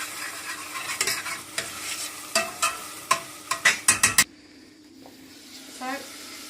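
Onions frying in a pan for a pilchard curry, a soft sizzle broken by a run of sharp stirring scrapes and clatters, which stop near the end to leave a quieter hiss.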